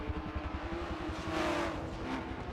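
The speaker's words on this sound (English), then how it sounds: "I don't know how accurate the M1 sounds here in Forza Motorsport 7, but it does sound good." BMW M1 race car engine in Forza Motorsport 7, a low rumbling drone that swells as it revs up mid-clip with a rising whine, then eases; no talk.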